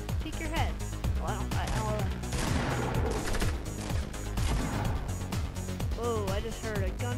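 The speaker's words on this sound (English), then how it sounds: "I just heard a gun battle" A gun battle in the battle royale game Fortnite, rapid overlapping gunfire and bursts crackling continuously at moderate volume, with a player talking over the shooting.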